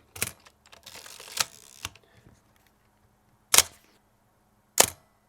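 A burst of soft clicks and rustling handling, then two sharp, close shutter clacks about a second apart from a Mamiya 645 1000s medium format camera fired with the mirror down, in a quiet room.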